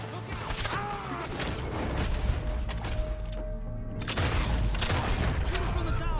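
Dense gunfire in a Red Dead Redemption 2 shootout, rapid overlapping shots and cracks rolling continuously, loud and near, with voices calling out beneath the barrage.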